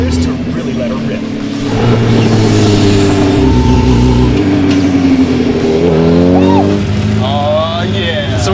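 A DiamondBack vehicle accelerating hard and shifting gears, its engine droning loud and close, climbing in pitch, dropping at a gear change and then rising again, with voices talking over it.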